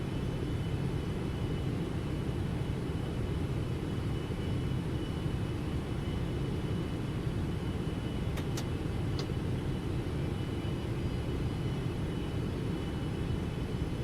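Boeing 777F freighter jet engines on landing approach in the X-Plane 12 simulator, a steady low broadband roar with a constant hum and no change in level, joined by a few brief high tones near the end.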